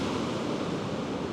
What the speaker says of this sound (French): L'eau est toujours très agitée. Et c'est vrai que la nuit, on entend vraiment le ressac.